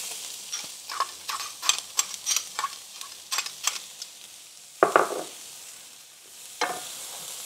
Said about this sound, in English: Give those a nice stir and saute these for 5 minutes until they're translucent.